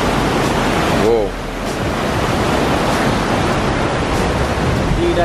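Spring water rushes steadily at the Spring of Life in Jamaica, a broad close hiss of flowing water with brief voices over it.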